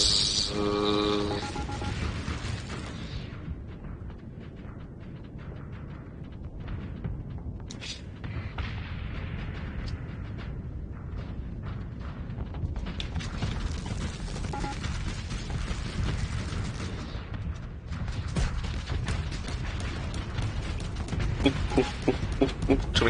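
Missiles exploding during a space battle in the game Starsector, heard as a dense, continuous rumble of overlapping thuds and bursts that swells and thins across the stretch, with no talk over it.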